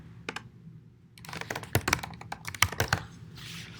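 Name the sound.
typing a command on a computer keyboard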